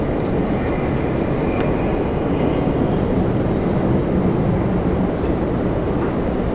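An Airbus A330 in Olympic livery lands at Toronto Pearson, its engines a continuous broad rumbling roar, steady and fairly loud from start to finish.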